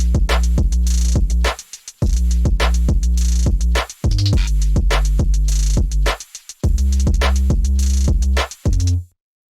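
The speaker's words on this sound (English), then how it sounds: "make a white noise 808 that sounds something like this" A white noise 808 bass synth made in Massive X and Serum plays a loud rhythmic pattern of deep booming bass notes with a hissy noise layer, in repeated phrases with short gaps before ending abruptly.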